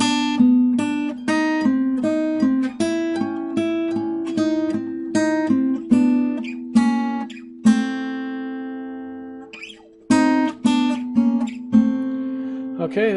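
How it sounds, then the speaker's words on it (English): Guitar notes ring out two at a time in a steady run of plucked minor third intervals, each pair sustaining briefly before the next, clear and close with no talking. "Okay, that's the sound of a minor third."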